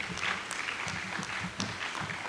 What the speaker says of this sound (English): Let's give a round of applause for Her Excellency